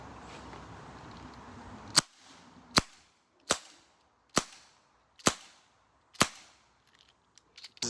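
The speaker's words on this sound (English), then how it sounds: "So I'm gonna fire off a few rounds, and then the BB rounds." Six sharp, loud air gun shots fire one after another about a second apart, each ending in a short ringing decay, with light clicks between and at the end.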